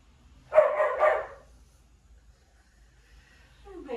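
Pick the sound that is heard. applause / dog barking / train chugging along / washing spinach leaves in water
dog barking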